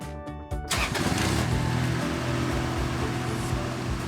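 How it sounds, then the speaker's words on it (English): A Genie rough-terrain scissor lift's engine cranks briefly and catches, then settles into a steady, close running hum. "Now pull out the red emergency stop button and restart the engine."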